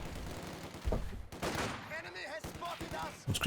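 Rapid rifle and machine-gun bursts crackle through a long firefight between grenadier, guard and conscript squads in a strategy video game, with sharp pops and short volleys over a commentator's voice.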